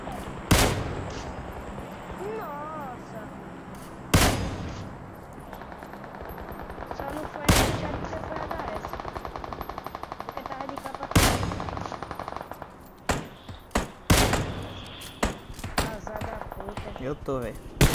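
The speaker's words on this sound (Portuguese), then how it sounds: "Não tá nem vendo de onde eu tô atirando." Gunfire in a mobile shooter game, with loud, sharp shots and short bursts recurring every few seconds and clustering toward the end, while someone talks between them.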